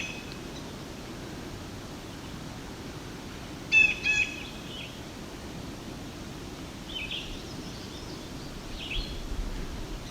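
A vireo sings in a lakeside woodland, giving a brief, fairly faint burst of chirped notes near the middle, with a few softer calls later over steady background hiss.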